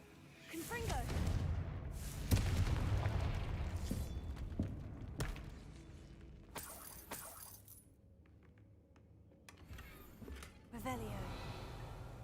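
Confringo blast spells exploding in Hogwarts Legacy, several booming bursts spaced a few seconds apart, with rumbling tails between them and a voice speaking over the action.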